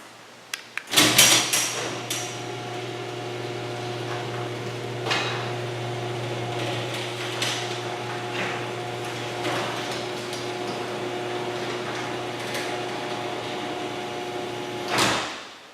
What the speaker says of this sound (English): Okay, and we will close the door.